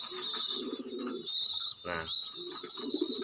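A pigeon squab answering its keeper with soft low cooing pulses and a short grunting burst, faint and close, while high chirping from other birds or insects runs through the background.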